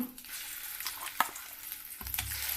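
Ground ridge gourd chutney added to a hot tempering sizzles and is stirred, a steady crackling hiss with a sharp spatter near the middle and louder stirring scrapes toward the end, close and without talk.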